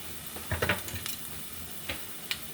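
Yellow vegetable rice frying in a pan: a soft, steady sizzle runs throughout, broken by a few quick scraping stirs and light clinks of a utensil against the pan, with no voices.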